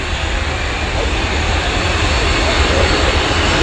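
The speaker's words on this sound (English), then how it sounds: "as the Chinook returns to parking" A Chinook helicopter taxiing back to parking at the RIAT airshow, a steady, dense engine and rotor roar that holds at an even level for the whole stretch, with no clear talk over it.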